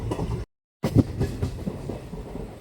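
An almost empty train moves through the night, a close rumbling carriage roar with irregular rhythmic clacks and thumps. The sound briefly cuts to total silence near the start.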